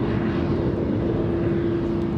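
A Boeing 787 Dreamliner passes at Los Angeles International Airport, heard as a loud, continuous jet roar with a steady low drone and no voices over it.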